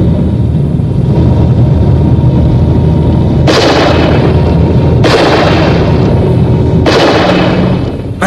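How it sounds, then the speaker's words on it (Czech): Three sharp, loud warning gunshots crack out at roughly even intervals during a car chase, each burst ringing over a constant rumbling background of engine and road noise. "Varovný výstřel."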